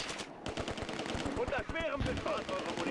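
MG42 machine gun fire in the World War II strategy game Close Combat II: rapid, evenly spaced bursts of shots crackle one after another at close range and high volume, with brief pauses between strings of fire.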